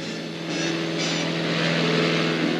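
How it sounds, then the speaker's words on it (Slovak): A Let L-200 Morava twin-engine aircraft drones steadily on a test flight, a continuous propeller and engine hum holding level and fairly loud with no voices. "Jeden z nových strojov skúšobní piloti práve zalietávajú."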